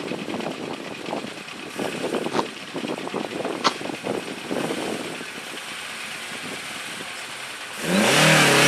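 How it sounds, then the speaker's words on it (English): A Triumph TR7 rally car fitted with a Dolomite Sprint engine pulls away at a rally stage near Bath, its engine revving through rising bursts as it drives off, followed by a loud burst of close wind noise. "That's a TR7 away with the Dolomite Sprint engine in."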